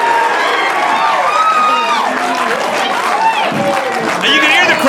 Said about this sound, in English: you can hear the crowd here at the Barre Lodge in Barre, Vermont, loving Frozen Solid